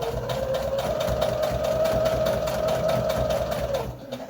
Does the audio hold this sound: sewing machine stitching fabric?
yes